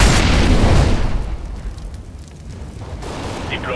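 An incendiary grenade goes off in CS:GO with one loud, close burst that rolls into a crackling, roaring fire, fading over about a second and a half before low flickering flames and faint scattered clicks carry on.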